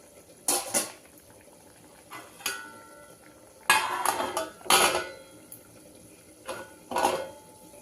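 A pot of mushrooms cooking on the stove, heard through a few separate clanks and scrapes of a utensil against metal over a quiet bubbling background.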